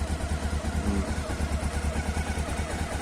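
A Honda CB 500 S motorcycle engine running quietly at a steady, even pulse, close and continuous with wind noise over it, no voices.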